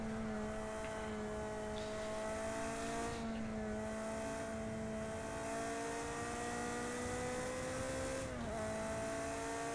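A Ferrari engine in the racing game Project CARS 2 holds a smooth, steady drone with a clear tonal whine, its pitch stepping slightly and dipping briefly near the end as it moves through gears, fairly quiet throughout.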